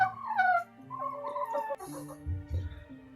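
Free-ranging village chickens of mixed breeds cluck and call near a country house, a few overlapping tonal squawks and a crowing note close by, with low grunting sounds underneath.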